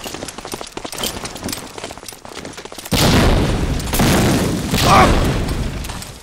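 A grenade goes off in Medal of Honor: Allied Assault with a loud, full-bodied blast midway through. Scattered gunfire comes before it, and the roar of the explosion rolls on afterward amid continuing battle noise.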